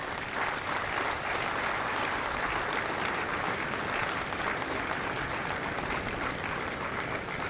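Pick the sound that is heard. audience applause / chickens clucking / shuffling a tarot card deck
audience applause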